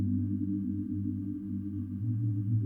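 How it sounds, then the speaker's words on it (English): A synth pad preset called Spooky from the Expand library, played alone as a sustained, steady low-register tone with a dark, unchanging character. "another one from Expand, and it's called Spooky"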